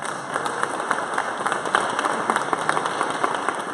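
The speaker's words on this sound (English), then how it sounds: "Big round of applause." Moderate audience applause at a Kansas City startup pitch event after a presenter finishes, a scattered crowd clapping steadily at a middling level, heard alone.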